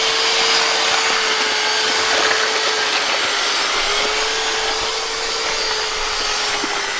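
A Makita 40V cordless auger drills steadily and loudly close by, holding a continuous whirring motor drone with a faint tonal hum and no voices.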